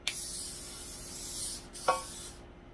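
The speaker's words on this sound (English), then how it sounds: "We're gonna go ahead and spray our pan." Olive oil cooking spray hisses onto a pan for meatloaf, one steady spray lasting over a second, then a short second burst, close and fairly quiet with no talking.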